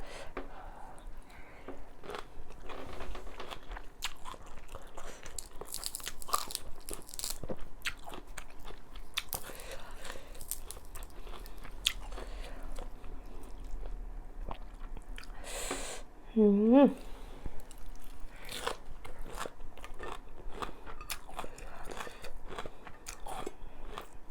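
Someone eats raw pork lime salad (koi moo), with close, repeated chewing, biting and crunching sounds throughout, plus a brief vocal sound near the end.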